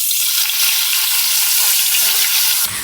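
Two medium onions, finely chopped, go into hot oil and fry with a loud, steady, close sizzling hiss that holds evenly throughout and shifts slightly at the very end.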